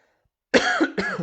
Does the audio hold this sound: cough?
yes